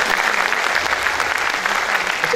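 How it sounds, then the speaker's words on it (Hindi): Loud, dense applause from a festival audience at an on-stage conversation in Goa, a steady wash of clapping that holds without a break from start to finish. "इसलिए वरुण के सब्जेक्ट की मतलब को चूज करने के लिए जोरदार तालियां मुझे लगता है होना चाहिए."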